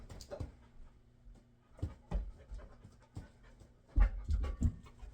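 A female dog panting in quick breathy bursts with occasional soft whimpers, close by, in irregular clusters with brief pauses and louder snuffling near the end, no talk over it.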